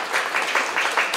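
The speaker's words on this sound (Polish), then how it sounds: "Wielkie brawa." Audience applause at a Valentine's poetry and music evening welcoming two guitarists, a steady patter of hands from a modest crowd, fairly near, with no talk over it.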